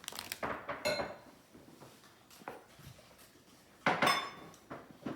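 A bowl and utensils being set down on a kitchen counter make a run of close clinks and clatters, a few bunched at the start and a louder cluster near the end, with quiet gaps between.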